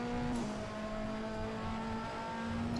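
A BTCC touring car from the golden era in the rFactor 2 racing sim drones at steady high revs, with a brief clunk and a dip in engine pitch near the start as the sequential shifter changes gear. It stays loud and continuous, with no talk.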